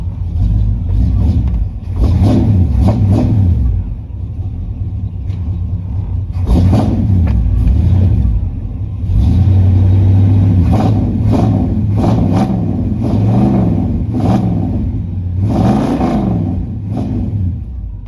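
A 1972 Chevrolet C10 pickup truck engine runs close by, settling into a rough idle between repeated revs that rise and fall, with brief voices in the background.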